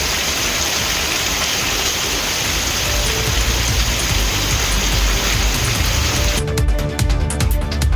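Rain falling in Kodaikanal, a dense continuous hiss of drops that stays steady and loud throughout, with a change in texture near the end.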